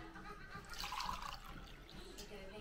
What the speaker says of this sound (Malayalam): ഒരു 250 നമ്മൾ ജാറിലേക്ക് ഒഴിക്കുകയാണ്.